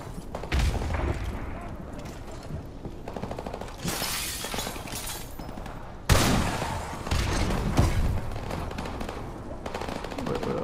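Rapid automatic gunfire and shattering impacts in Call of Duty 4: Remastered, with dense overlapping bursts of shots, sharp cracks and a heavy volley midway, loud and continuous throughout.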